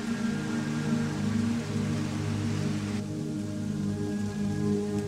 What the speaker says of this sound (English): A rain began to fall as I entered the small town of Elberton,